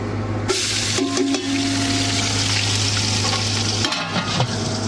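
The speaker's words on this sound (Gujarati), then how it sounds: "ડુંગળી નાખી દીધી ડુંગળીને પાકવા દઈએ" Onions frying in hot oil in a pan make a loud, steady, close sizzle throughout, with a few brief stirring clatters partway through.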